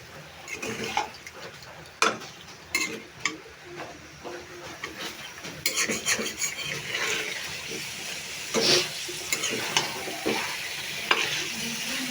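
Meat stirred and fried in a pan of cooked-down spice paste for a home lunch, with scraping stirs and steady sizzling, plus occasional clinks and splashy bursts from close by.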